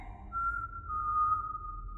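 A person whistles a single sustained, slightly wavering note for about two seconds inside a wing of the old Parramatta Gaol, faint and alone against a quiet, hollow room tone.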